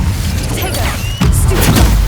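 The Incendio fire spell is cast in the video game Hogwarts Legacy: a loud, dense, roaring blast that swells again midway and stays heavy to the end, with a voice briefly heard underneath.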